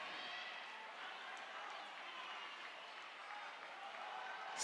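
A crowd cheers and applauds rowing athletes at an indoor rowing national championship, a dense, continuous wash of clapping and shouting that holds steady throughout.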